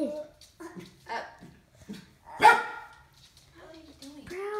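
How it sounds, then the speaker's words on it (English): A dog barks and whimpers close by in a home in a series of short, sharp barks and higher whines, with one louder bark near the middle, while a person's voice is mixed in. "Now we're going after the dog."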